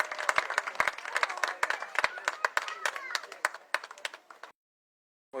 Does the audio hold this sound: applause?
yes